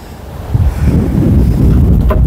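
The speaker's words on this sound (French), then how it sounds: "Je ne sais pas si tu arrives à entendre le vent." Strong wind buffets the microphone atop a castle keep, a continuous low roar, loud and close, with no talking.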